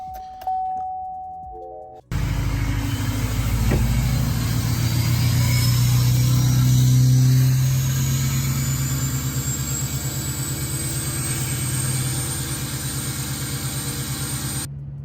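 An L5P Duramax diesel pickup truck with an axle-dump exhaust starts and settles into a loud, steady high idle with a deep throbbing exhaust rumble that stays close and constant.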